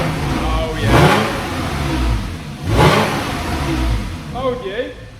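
Porsche 991 engine, freshly fitted with a new solenoid, revs twice in strong rising-and-falling bursts over a steady idle, close and loud, with a voice talking briefly near the end.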